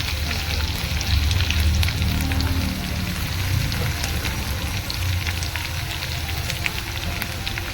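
Crushed garlic and cumin seeds sizzle in hot oil, a dense crackling, spitting fry heard close and continuous, loudest at the start as the garlic hits the pan, then settling into a steady sizzle.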